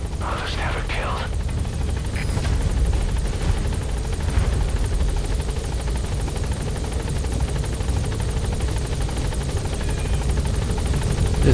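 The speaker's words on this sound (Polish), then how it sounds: "I'll send the extraction chopper." An extraction helicopter in Metal Gear Solid V: The Phantom Pain drones with a loud, steady rotor and engine roar throughout, with faint voices in the mix.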